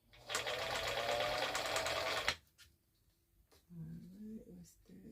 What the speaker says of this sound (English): this is a block that the Bernina machine is going to be sewing